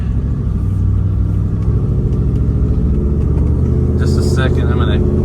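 A 1972 Ford F250 Custom with a Coyote V8 engine swap pulls away, its deep, steady engine rumble heard from inside the cab as the truck moves off, with a faint higher sound near the end.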